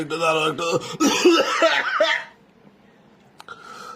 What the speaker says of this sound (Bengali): কাশি হচ্ছে যে হ্যাঁ